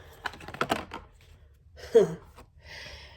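Tarot cards riffle and shuffle in a quick flurry of crisp clicks, then a brief pause before a few more soft shuffling sounds.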